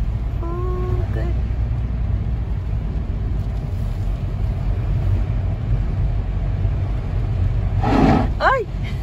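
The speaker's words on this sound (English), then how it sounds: "there's the sounds, the water sounds" Steady, loud rush of floodwater in an overflowing canal during Storm Franklin, a continuous low roar with a brief tone near the start and a voice exclaiming near the end.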